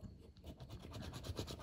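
A coin or fingernail scratching an FDJ lottery scratch card, giving quiet, rapid, rhythmic rasping strokes close up, with no talk.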